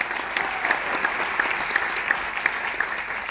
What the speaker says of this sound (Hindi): तो एक बार जोरदार ताली हो जाए इनके लिए।